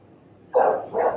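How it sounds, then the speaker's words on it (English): Two short, loud barks from a dog outside ring out in quick succession after a moment of near silence, heard indoors at moderate distance. "there's just a cute dog outside"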